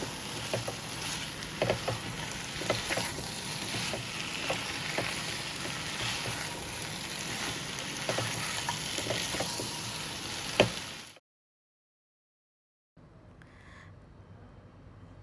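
Potatoes for aloo katli cooking in a pan give a steady close frying sizzle with light crackles and occasional clicks for about eleven seconds, then a brief silence, then a quieter sizzle resumes.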